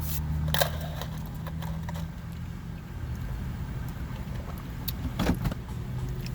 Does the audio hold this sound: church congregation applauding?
no